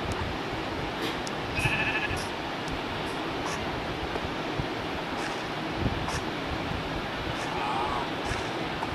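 A goat bleats a few times in the Minecraft video game, short game-sound calls heard over a steady background hiss.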